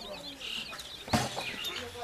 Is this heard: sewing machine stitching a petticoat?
no